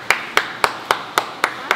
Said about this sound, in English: Round of applause to Oi.